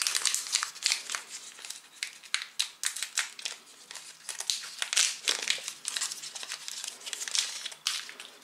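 Plastic wrapper of a multigrain candy bar with dark chocolate glaze being torn open, a run of close, bright crinkling and crackling bursts lasting several seconds with no talk.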